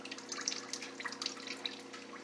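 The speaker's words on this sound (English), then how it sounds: "coolant dripping." Coolant drips from a Mitsubishi Evo 8 engine during turbo removal, a scatter of quick, faint taps and splashes close to the microphone over a low steady hum.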